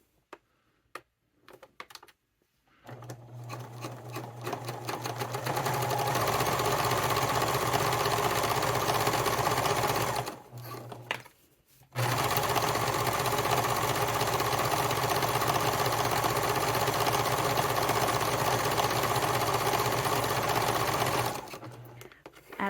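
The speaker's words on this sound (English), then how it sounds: "Now I'm going to sew about 1/8 of an inch from the edge all the way around." A sewing machine topstitches about an eighth of an inch from the edge of a fabric satchel with a lengthened stitch, running in two long steady bursts close by, with a short pause between them and a few clicks at the start.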